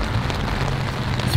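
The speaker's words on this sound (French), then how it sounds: "Il pleut." Rain falls steadily on a motorcycle camping tent, a dense, even patter that holds at a constant level throughout with no voices.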